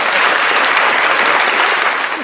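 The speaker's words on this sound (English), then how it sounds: "Please keep clapping" Dense, loud applause from an audience fills the whole stretch, a steady wash of many hands clapping at once with no voices on top.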